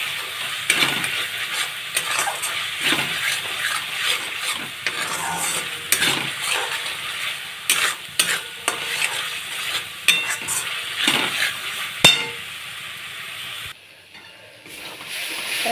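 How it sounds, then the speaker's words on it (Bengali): Masala with salt and turmeric stir-fried for a katla fish kalia, brisk scraping strokes and clinks of a spatula over a continuous sizzle, close and rhythmic, pausing near the end. "মশলাটা ভালো করে কষিয়ে নেবো"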